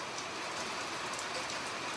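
Steady rain falls nonstop, a dense, even hiss of drops on surfaces outdoors around a car being fitted with new tires and rims, close and unbroken for the whole stretch with no voices.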